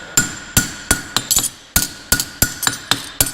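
Close, ringing hammer strikes on a horseshoe's heel edge as a farrier boxes it, roughly a dozen quick metallic blows, some in rapid pairs, with one short gap midway.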